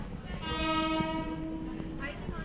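A train horn blares for about a second over the rumble of a passing train, followed by a shorter distant toot.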